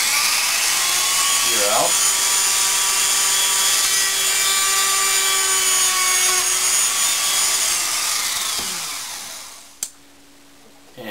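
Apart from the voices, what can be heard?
drilling a gear with a power drill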